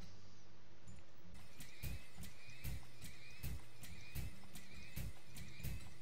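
Horses whinny in the video game TurmOil amid a steady, rhythmic thud of hooves, repeating roughly every half second against a constant background hum.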